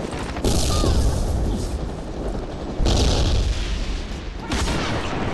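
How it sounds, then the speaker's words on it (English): Frag grenade blasts in a video game firefight, three loud booming explosions in quick succession, each a sharp onset followed by a long rumbling decay, under a dense wash of gunfire. "Frag out! Throwing frag!"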